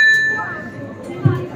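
At an exhibit in the Delhi Science Museum, a bell rings once with a clear metallic ding whose tone lingers and fades, while people talk over it in the background.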